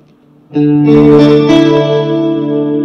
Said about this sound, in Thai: คอรัสบวกดีเลย์